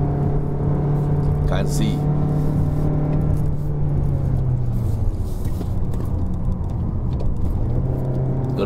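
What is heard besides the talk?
2019 Mazda3 1.5L engine after shifting up to third gear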